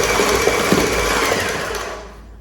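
A stand mixer fitted with a cookie dough paddle beats sticky Italian sausage meat, giving a steady close motor whir with rhythmic churning that fades out near the end.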